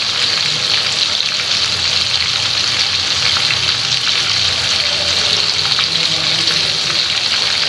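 Fish coated with soy sauce fries in a pan with a loud, steady sizzle and crackling spatter up close, continuing without pause.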